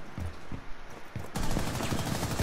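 Gunfire in the tactical shooter game Rainbow Six Siege, with a few single sharp shots followed by a dense burst of rapid automatic fire at close range.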